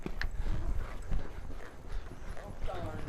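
Horses playing horse soccer move with a steady clip-clop of hooves thudding on the ground, close and rhythmic, while someone talks over them.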